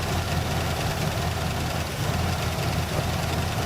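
A 1967 Buick GS 340 idles steadily at close range with a low, even rumble and a faint ticking of lifter noise running through it, with no voices over the engine.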